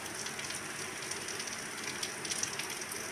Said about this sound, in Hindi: और ये देखिए दोस्तों, बारिश हो रहा है आज सुबह सुबह